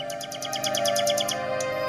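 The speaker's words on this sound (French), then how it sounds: "le monarque exprima son désir d'entendre le vrai rossignol" A nightingale sings in a fairy-tale setting: quick bright chirps repeat in an even rhythm over a soft, steady musical drone, clear and fairly close.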